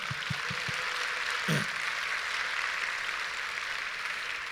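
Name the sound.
congregation applauding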